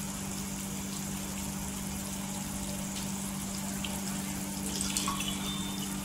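Dried mandeli fish being rinsed clean in water, heard as a steady, unbroken rush of water over a constant low hum, with no talking.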